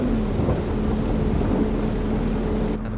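Rain and rolling thunder in Farming Simulator 22 make a steady, loud, dense wash of sound, with a low engine-like hum running underneath.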